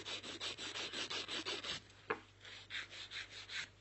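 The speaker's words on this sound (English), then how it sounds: "this nail's ready for filing" An acrylic nail on a short, bitten nail is filed in quick, steady back-and-forth strokes, a close, soft rasping rhythm interrupted by one brief tap midway before the strokes resume.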